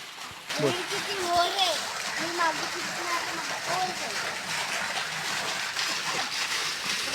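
Water pouring and splashing on a farm, a steady spattering wash that runs throughout with a sharp onset, while a person talks over it.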